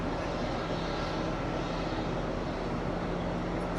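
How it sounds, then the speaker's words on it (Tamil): An ATR 72 twin-turboprop airliner's engines give a steady, even drone throughout, heard from inside or near the aircraft with no talk. "ஏடிஆர் செவன்டி டூன்ற ஃப்ளைட் தான்"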